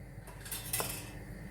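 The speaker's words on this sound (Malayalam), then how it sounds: "മൂടി വെക്കണം." A metal lid set down on a cooking pot of simmering Kerala yam teeyal (chena), a single clinking clatter near the middle of a quiet kitchen moment, close and fairly soft.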